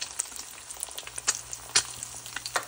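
An egg frying in hot oil in a pan, a soft continuous sizzle dotted with sharp crackles and pops, fairly quiet and close, with no talking.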